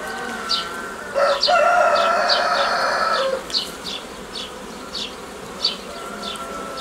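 Honeybees buzz steadily at a hive during a cold spring, a continuous drone running throughout, joined midway by a long crowing call and scattered short chirps in the background.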